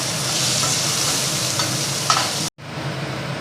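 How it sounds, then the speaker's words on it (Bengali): Oil sizzles steadily around frying eggplant in a pan, a loud continuous crackle with faint stirring, briefly cutting out before resuming. "এই দেখুন বেগুন ভাজা হয়ে গেছে"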